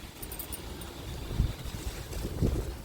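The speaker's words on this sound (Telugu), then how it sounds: "భలే వస్తుందండి గాలి హాయిగా." Wind blows across a second-floor terrace garden of flowering plants just after rain, a soft, steady rushing with a couple of louder buffeting gusts against the microphone and no voices.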